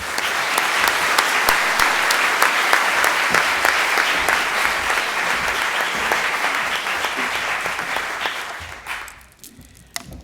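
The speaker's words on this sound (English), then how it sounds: "a very warm round of applause" Audience applause fills a lecture hall as a speaker is welcomed to the floor, a dense, steady clapping that holds for several seconds before thinning out and fading near the end.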